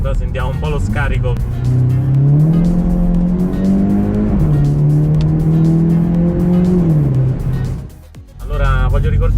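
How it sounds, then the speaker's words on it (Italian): A Volkswagen Golf GTI is driven on coastal roads near Sperlonga. Its exhaust gives a loud, close engine drone that climbs and holds as it revs, dips briefly near the end and then surges back. "Sentiamo un po' lo scarico"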